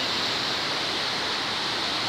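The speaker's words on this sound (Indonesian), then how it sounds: "Air Terjun Simoko sendiri merupakan salah satu objek wisata baru di Kabupaten Bantaeng." Simoko waterfall in Bantaeng, Indonesia, a steady, loud broadband rush of falling water that fills the clip evenly without any break.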